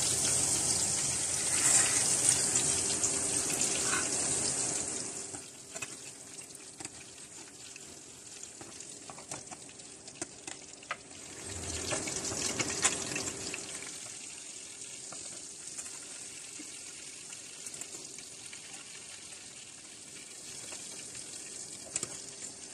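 Chicken balls frying slowly in hot oil give a steady, close hiss and crackle that swells loudest at the start and again midway, then settles to a softer sizzle.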